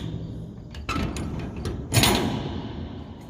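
Heavy metal door on an abandoned train car dragging and clanking as it is pushed open, with a rumbling slide and a sharp bang near the end, echoing inside the empty carriage.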